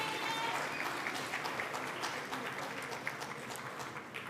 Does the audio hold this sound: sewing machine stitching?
no